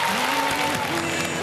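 A studio audience on a Russian TV music-guessing game show claps in a dense, continuous burst of applause, loud and close, with faint tonal sounds running underneath.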